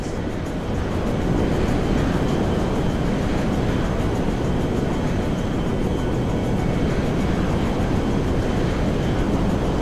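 A cargo jet flying in GTA 5 gives a steady, loud, broadband engine roar that holds evenly throughout with no talking.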